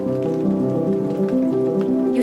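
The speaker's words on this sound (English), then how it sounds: "You see, Abhi, every time it rains, I feel free" Steady rain falling, a soft, even patter beneath sustained musical tones throughout.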